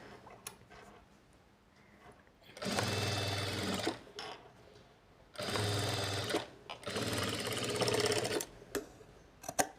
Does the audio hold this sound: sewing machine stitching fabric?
yes